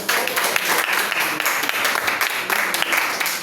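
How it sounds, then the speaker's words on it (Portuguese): A church congregation clapping during a Sunday communion service, dense rhythmic applause filling the room at a fairly loud level, with a few voices mixed in underneath. "E as palmas lá ao Senhor."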